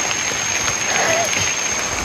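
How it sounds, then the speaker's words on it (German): Rain falling on a mountainside in Uganda, a dense steady hiss of drops on foliage and ground, loud and continuous with faint voices underneath. "jetzt kommt der Regen dazu."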